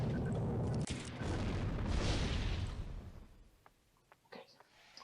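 A cluster bomb going off in Star Wars Galaxies, heard as a loud, rumbling blast that builds and lingers for a couple of seconds before fading into quieter game sounds with a few faint pops.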